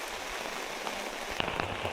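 Rain drums steadily on a shelter roof sealed with Tyvek tape, a close wash of patter with louder individual drops striking toward the end.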